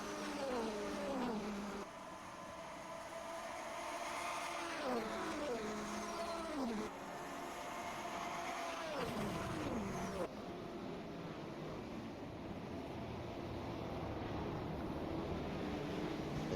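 Simulated race cars in the 1988 San Marino Grand Prix, a Ferrari among them, drone steadily with engine tones sweeping up and down through gear changes, several cars overlapping, loud and continuous for the whole stretch.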